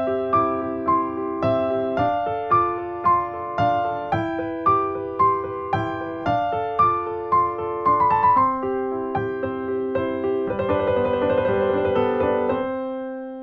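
Solo piano plays the intro of a song, a steady sequence of ringing chords and melody notes, close and clear, swelling into a fuller sustained chord at the end.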